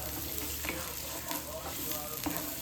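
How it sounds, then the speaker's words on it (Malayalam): Chopped shallots frying in a pan for a Kerala-style beef roast, stirred with a steady crackling sizzle and soft scraping strokes, close and continuous with no talking. "എന്നതിന് ശേഷം നല്ലൊരു ഇളക്കി കൊടുക്കട്ടോ"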